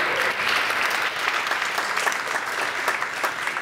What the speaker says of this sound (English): And applause for all of you.